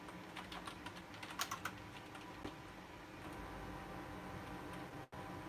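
A short burst of computer keyboard typing, several close key clicks early on, then quiet room hiss with a faint thump near the end.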